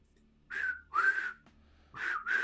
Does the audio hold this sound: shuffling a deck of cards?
no